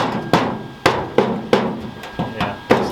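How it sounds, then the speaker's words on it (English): Sharp metallic body hammer taps on sheet metal of a Ford Galaxie's new trunk strike in an uneven series of about seven blows, close by, each ringing briefly before the next. "use my little fancy body hammer to hit things down"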